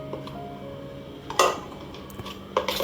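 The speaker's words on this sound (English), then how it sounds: "scoop it out into the container until everything is finished" Egusi soup being scooped from a pot into a container, a quiet scraping and a few sharp metallic clinks of a spoon against the pot, close and without talking.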